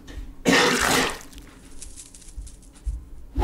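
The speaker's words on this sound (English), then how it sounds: "Coughing." A person coughs once, loud and close, a harsh burst lasting about half a second, followed by quieter breathy rustling and a few small throaty sounds.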